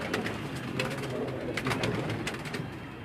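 Pigeons on a rooftop in Karachi coo in soft, repeated calls against a steady outdoor background hum.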